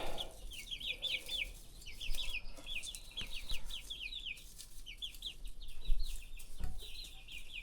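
A group of newly bought chicks peeps under a brooder lamp, with rapid high chirps repeating in quick clusters. Quiet shuffling and light thumps from the brooder sit underneath.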